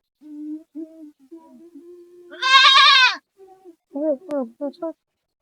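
A goat lets out one loud, wavering bleat in the middle, while a person talks before and after it.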